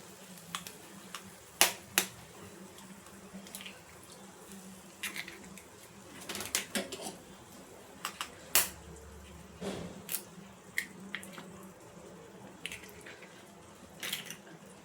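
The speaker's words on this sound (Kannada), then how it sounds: "ಇವಾಗ ಮೊಟ್ಟೆಯನ್ನು ಹೊಡೆದ್ಕೊಂಡು ಹಾಕ್ಕೊಳ್ಳೋಣ" Four to five eggs being cracked into a pan for egg bhurji over a gas flame, a series of sharp, close clicks and taps scattered across the span, some with soft wet drips, under a quiet background with no speech.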